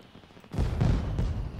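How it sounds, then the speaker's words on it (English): In the video game The Sims 4, after a moment of quiet, a loud rumbling burst of booming fireworks rolls in and keeps crackling and thundering to the end. "Fireworks, it sounds like."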